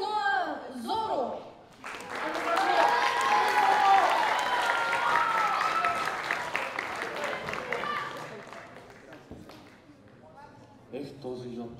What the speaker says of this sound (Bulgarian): Аплодисменти за Роро Ноа Зоро.